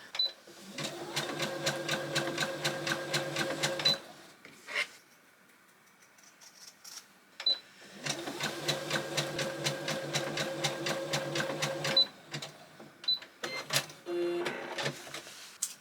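A sewing machine stitches a nativity shepherd costume in two long, fast, rhythmic runs, with a pause and some clicks and handling noises between and after them. The machine is close and fairly loud.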